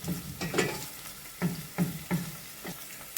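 Pepper paste being stirred in a cooking pan for a Turkish black-eyed pea (acebek) dish, with soft scraping strokes and a faint sizzle, several distinct stirs spaced irregularly, close and fairly quiet.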